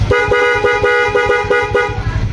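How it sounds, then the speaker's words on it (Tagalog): A loud, brassy horn on a Honda Beat scooter honks in rapid repeated bursts, about eight blasts in a row, close up with engine noise underneath. "sa loud horn doon tayo mag-testing"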